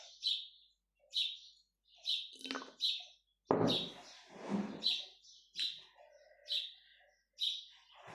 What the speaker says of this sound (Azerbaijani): Quşların səsini eşidirsiniz də dostlar.